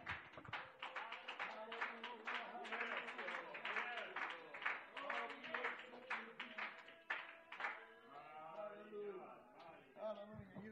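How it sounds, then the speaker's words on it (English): Rhythmic hand clapping from a church congregation, steady and close, mixed under loud voices singing and talking throughout. "Let's clap our hands unto him tonight."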